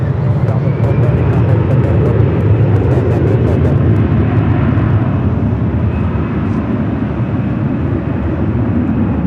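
A Delta jet airliner rolls down the runway at Los Angeles International Airport, a steady, loud, broadband engine roar that holds for the whole stretch, with voices talking over it.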